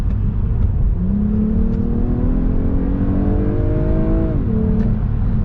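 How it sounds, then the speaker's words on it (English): A 2025 Lexus ES350's engine revs hard under acceleration, its exhaust note climbing steadily in pitch, loud and close, then dropping briefly as it shifts. "I'm gonna floor it again, and I just want you to listen to the exhaust note"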